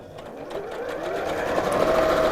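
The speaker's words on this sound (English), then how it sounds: "So just sewing these together to make 2 tubes." A sewing machine stitches fabric pieces together into tubes, a steady rapid mechanical whir that rises slightly in pitch as it runs, close and alone without talk.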